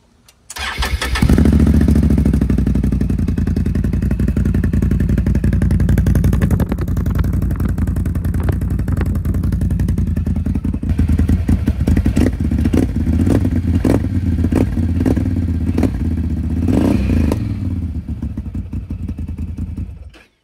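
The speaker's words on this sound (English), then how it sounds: "we're gonna go into the Yoshimura pipe. Very nice. I'm gonna let you guys hear it real quick." A 2022 Can-Am Outlander 1000 XT ATV fitted with a Yoshimura exhaust cranks over and starts, then settles into a loud, close, throaty idle with several sharp revs of the engine toward the end.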